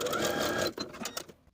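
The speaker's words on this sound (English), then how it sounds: "Then we can pull the elastic entirely into the casing and sew closed the gap in your stitches." A sewing machine runs in a steady, close whir for most of a second as it stitches shut the gap in a closed elastic casing on a puff sleeve top, then stops and leaves a few soft handling taps.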